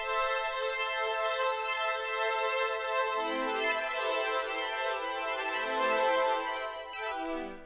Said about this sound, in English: it was like this kind of like lead synthy sound from the synth I was using, but it comes with a built-in arpeggiator